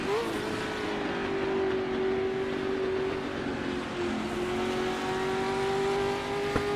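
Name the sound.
1960s sports racing cars racing at Oulton Park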